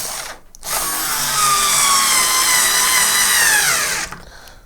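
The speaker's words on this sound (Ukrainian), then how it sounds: "Тепер подивимось, як ця викрутка закручує звичайні саморізи." A WMC Tools cordless screwdriver drives an ordinary self-tapping screw in one steady, close, high-pitched whir lasting about three seconds, with short quiet gaps before and after.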